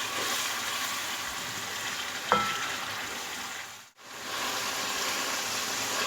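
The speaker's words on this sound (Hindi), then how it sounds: "अब इसको पानी खुश्क होने तक भूनूंगी।" Keema masala with garlic-ginger paste fries with a constant, close sizzle while the water cooks off. A single spoon clink comes partway through, and the sound briefly cuts out before the frying resumes.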